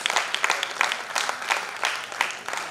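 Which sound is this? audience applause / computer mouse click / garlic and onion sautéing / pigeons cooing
audience applause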